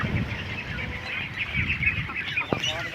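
Ducks on a farm flock of about 1500 quack and honk repeatedly at moderate distance, several overlapping calls in short bursts against an outdoor background.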